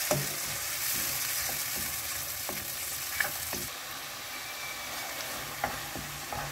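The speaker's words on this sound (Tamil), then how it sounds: "பூண்டு, சிராய், இது முதல் நல்லா வதங்கிட்டோம்." Garlic, onion, ginger and spices sizzle in an oiled pan for a coconut mutton peratel, a steady close frying hiss broken by scattered clicks and scrapes of a stirring spoon.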